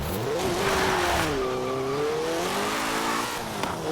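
An Abarth 124 Spider in Forza Horizon 4 revs steadily with a loud engine drone whose pitch dips and climbs, while faint tire squeal marks the drift around the corner.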